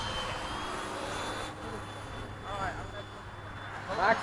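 A Freewing 90mm F-22 or 80mm F-14 radio-controlled model jet flies past at a flying event, its ducted-fan whine rising and falling at moderate distance under people talking and wind noise.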